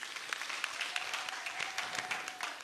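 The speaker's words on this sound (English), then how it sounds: "Once more, clap for the Catechist." Catechists receive applause from a church congregation at an archdiocesan Catechist Day, a steady wash of many hands clapping at a distance with a faint sustained tone running beneath it.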